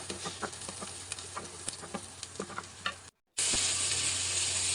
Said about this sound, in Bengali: কাঁচামরিচ রসুন পেঁয়াজ এটা একটু হালকা ভাজা করে নিব